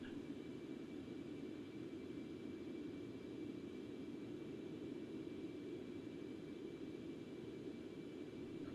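Concorde jet engines in the X-Plane 11 flight simulator hold a steady, loud, broadband roar with no clear rise or fall in thrust throughout.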